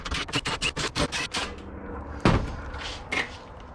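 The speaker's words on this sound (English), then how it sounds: "let's go ahead and take these screws off" Screws come out of the cover of an HCalory HC2 diesel heater in a quick run of sharp clicking ratchet-like ticks, followed by a few louder knocks and clunks, close by.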